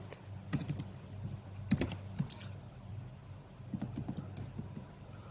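Computer keyboard typing Go code, irregular clusters of light key taps at close range with brief pauses between bursts, no voices.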